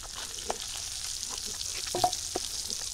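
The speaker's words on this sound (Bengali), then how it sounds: "একদম লাল লাল করে মাছ ভাজছি।" Hilsa fish fry in hot oil in a home kitchen, a soft continuous sizzle with occasional spatters and a utensil tap near the end, close and fairly quiet with no talk.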